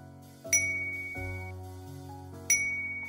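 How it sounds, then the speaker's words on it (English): A bell in VRChat, a video game, is struck repeatedly, giving clear, ringing dings about two seconds apart with lingering tones and a faint clank at the end. "Just stop ringing the goddamn bell."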